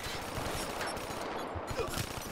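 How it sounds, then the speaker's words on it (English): Gunfire in a competitive 3v3 search-and-destroy shooter video game, with rapid repeated shots forming a dense burst throughout, close and steady, with no one talking. "Oh, he's shooting me."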